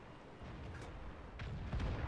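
A tank cannon fires in the World of Tanks game, a distant muffled boom near the end of a short stretch of low rumbling battle noise.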